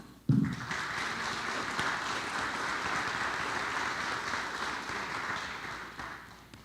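Sustained audience applause recognizing ninth grade students at an evening ceremony, a sudden burst of many hands clapping that stays steady and full for several seconds before tapering slightly at the end.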